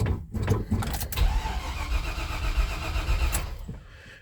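A 1978 or 1984 Chevy C10 truck engine is cranked by a starter taken from a 4.3 Chevy motor, catching and firing after a brief crank, then running loud and close with a rough, uneven idle that settles near the end.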